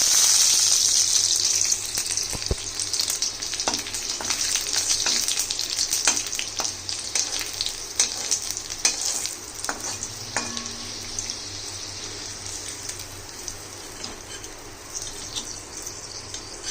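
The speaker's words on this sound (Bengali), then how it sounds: "রসুনটাও আমি ভেজে তুলে দিলাম।" Garlic fries in a pan with a strong, continuous sizzle and occasional stirring clicks, close and steady throughout.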